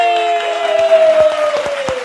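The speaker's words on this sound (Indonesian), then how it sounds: "tepuk tangan yang meriah untuk Prinsa Mandagi" Audience applause greets Prinsa Mandagie on an Indonesian talk show, steady clapping held under a sustained musical tone with a few sharper hits, fairly loud and close for about two seconds.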